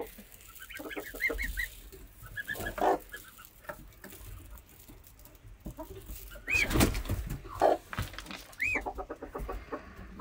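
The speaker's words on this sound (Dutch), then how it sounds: "Kippen, roerende kippen." Chickens, including a Brahma hen, cluck intermittently in a farmyard pen alongside pigeons and geese, with soft, scattered clucks and a few louder calls at moderate distance.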